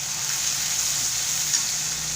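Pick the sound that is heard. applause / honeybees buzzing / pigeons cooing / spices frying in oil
spices frying in oil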